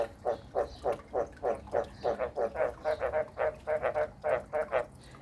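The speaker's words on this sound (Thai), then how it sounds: "เสียงกบร้องละ" Frogs croaking at a farm pond near a cattle pen in Thailand, a male calling in a steady run of about twenty loud, close, evenly spaced croaks with no talk over them.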